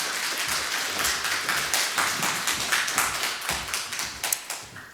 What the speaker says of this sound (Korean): 오셔서 말씀 전해 주실 때 감사하다고 우리 박수로 맞이해 주시기 바랍니다.